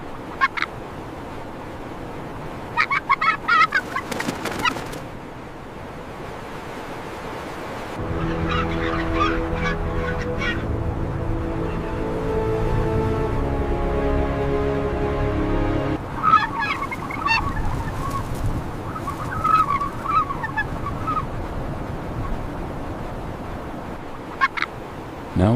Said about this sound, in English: These two have found each other again. Barnacle Goose often stay paired for years.